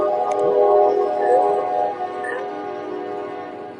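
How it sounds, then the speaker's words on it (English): A local train passes by outside, heard as a steady low rumble with tonal hum and faint higher squeals, loudest early and then gradually fading, picked up in the background of a conversation recording. "That's some of your train going through, Mick?"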